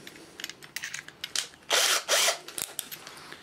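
A power drill runs in reverse, turning a larger screw extractor against a stuck screw, with two loud ratcheting whirs between short clicks and mechanical rattles, close by and with no talk.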